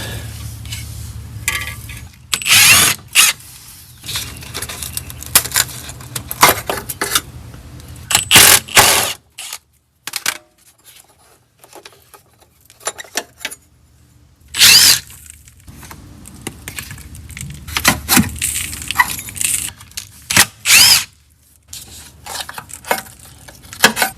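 A tool removes 1/2-inch bolts from a bracket on the fuel tank of a Pontiac that sat parked for 30 years. Loud, sharp bursts of mechanical clattering repeat in clusters, separated by quiet pauses, with no talking.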